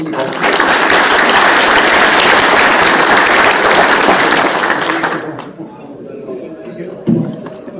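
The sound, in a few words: audience applause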